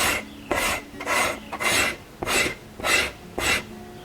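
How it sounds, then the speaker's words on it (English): A scraper dragged across an animal hide to remove hair and skin during brain tanning, seven rhythmic rasping strokes about half a second apart, close and steady. "The scraper, which is for hair and skin removal,"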